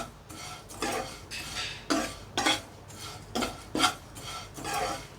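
A spatula stirs flattened rice and dry coconut roasting in a pan, producing rhythmic scraping swishes about every half second, close and steady, with no talk.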